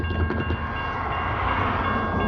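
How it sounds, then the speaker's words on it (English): Rumbling train passing close by on nearby railway tracks among trees, a loud continuous roll of wheels and cars with sustained tonal ringing, no voices. "you can hear trains coming like basically constantly."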